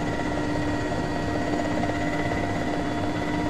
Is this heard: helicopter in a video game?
yes